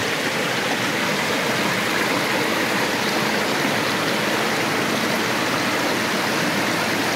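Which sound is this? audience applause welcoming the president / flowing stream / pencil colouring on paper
flowing stream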